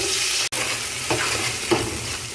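Sliced onions frying in a little oil as the base for Yemeni mandi rice, a constant hissing sizzle with a couple of stirring scrapes and a sharp click near the start.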